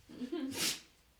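A single close sneeze, a quick inhale followed by a sharp, breathy burst, fairly soft overall.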